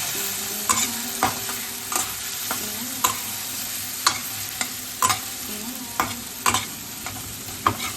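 Turmeric, Kashmiri chilli powder and salt in a spice paste, sizzling in a pan while a spatula scrapes and stirs it in steady, repeated strokes; a close, continuous fry hiss sits under the sharp scraping clicks.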